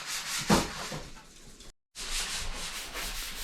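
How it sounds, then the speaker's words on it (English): Race car bodywork being sanded by hand, a steady scratchy rubbing with one sharper stroke early on and a brief silent gap midway, fairly close and with no voices. "While the boys are sanding"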